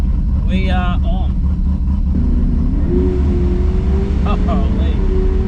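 A drag racing car launches at the strip with a loud, close, continuous engine roar whose pitch climbs as it accelerates, while excited voices talk over it.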